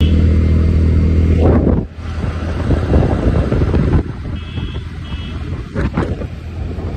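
A scooter riding through traffic toward Howrah station, with steady engine drone and heavy wind buffeting on the microphone, a passing vehicle whoosh and faint beeps in the busy street.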